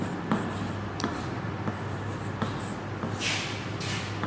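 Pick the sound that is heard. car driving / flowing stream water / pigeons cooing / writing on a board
writing on a board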